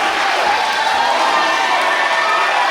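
A wrestling match crowd roars in a steady, dense wash of cheering that fills the arena without a break, loud and close, no single voice standing out.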